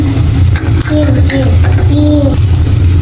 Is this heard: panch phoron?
yes